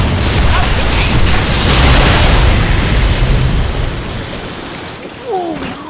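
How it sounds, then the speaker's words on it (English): Video game explosion in Deadpool: a loud, dense roaring blast with crackling debris that sustains for several seconds and then fades, with a brief voice-like squeal at the end. "Explosion."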